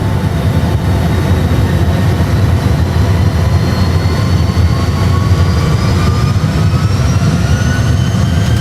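Airbus A320 jet engines during the take-off roll, a loud, dense roar with rising whining tones climbing steadily as thrust builds, heard from close by with no voices.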